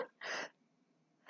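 A single sharp sneeze burst, close and fairly loud, followed by quiet, with the start of another breathy sound at the very end.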